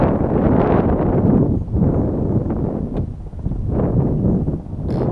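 Strong wind buffets the microphone outdoors during an ARRMA Vendetta 5S RC car speed run, a loud continuous low roar that surges and dips throughout.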